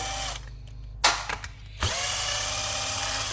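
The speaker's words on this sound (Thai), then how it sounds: "ก็ถอดน็อตออกมาครับเราจะฝาครอบมีทั้งหมดห้าตัวนะ" A power driver spinning out the cover nuts on a chainsaw during disassembly, short whirring bursts with a brief ratcheting stop, then a steady high motor whine running close and loud to the end.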